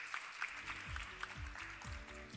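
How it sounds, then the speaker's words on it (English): Audience applause at a moot court closing ceremony welcoming the moderator to the stage: steady clapping from a crowd, with a low musical drone running beneath it. "please welcome Mr. Shanaka Kure on stage with a round of applause"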